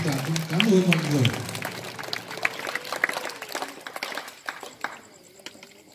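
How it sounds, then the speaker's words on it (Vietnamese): A church congregation of the Vinh Son parish applauds during a Mid-Autumn Festival mass for children. A voice speaks, then scattered, uneven hand claps fade out over several seconds. "Chúng ta hãy nổ lên tràng pháo tay để tạ ơn Chúa và chúng ta cũng cảm ơn mọi người."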